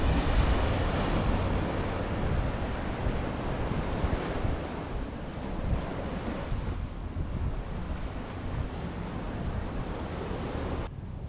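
Ocean waves rolling onto Shichirigahama beach on the Pacific coast of Kanagawa, a continuous loud surf roar mixed with gusty wind buffeting the microphone, with no voices.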